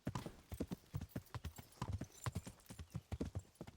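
In the medieval game Kingdom Come: Deliverance, a horse's hooves clip-clop in a steady walking rhythm, close and distinct, with a faint murmur of voice underneath.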